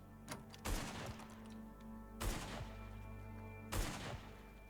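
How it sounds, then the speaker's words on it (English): Gunshots in the zombie survival game Humanitz: three separate muffled reports at intervals of about a second and a half, with a faint ambient hum between them. "I hear gunshots up ahead."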